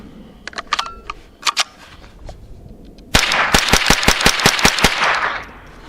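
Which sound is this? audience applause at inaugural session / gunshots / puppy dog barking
gunshots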